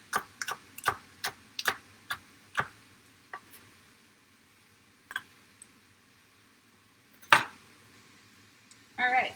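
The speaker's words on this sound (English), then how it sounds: "we're going to finish chopping some green onion." Knife chopping green onion on a cutting board, a quick cluster of sharp taps that slows to sparse single knocks, then a louder clatter, close by in a quiet kitchen.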